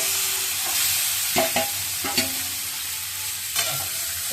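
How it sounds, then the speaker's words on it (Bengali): Onions fry with a steady sizzle in a pan while a spoon scrapes and clinks against it in occasional distinct strokes, close and clear with no talking. "আর এদিকে পেঁয়াজ তো ভাজা হয়ে গেছে"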